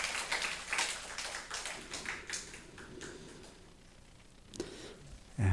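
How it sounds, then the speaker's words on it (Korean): A church congregation claps during a Sunday morning worship service to celebrate birthdays, a soft, scattered patter of hands that thins toward the end before a louder thump. "박수 드립니다."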